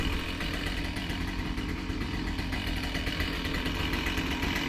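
A Husqvarna chainsaw bucks fallen blow-down timber lying off the ground, its engine buzzing loud and close at a steady high pitch throughout, with no talk over it.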